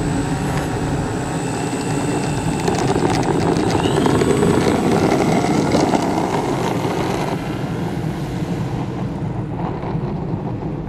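Propeller engine of a big-size PBY Catalina RC model plane on its maiden flight, a steady loud droning buzz throughout with wind buffeting the microphone, fading slightly toward the end.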